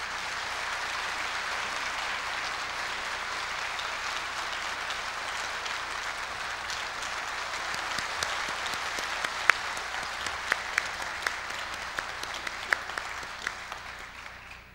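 Sustained, even applause from a large audience at the Korea University inauguration ceremony, welcoming the 19th president, Yeom Jae-ho, onto the stage, with a few louder individual claps late and a gentle fade at the end.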